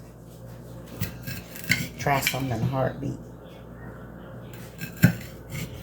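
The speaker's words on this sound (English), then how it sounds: "So I'm gonna go ahead and chop these up, and I'll get done with these bell peppers." Knife chopping bell peppers in a home kitchen, a few clicking and knocking cuts with utensil clatter, close by, mixed with brief talk.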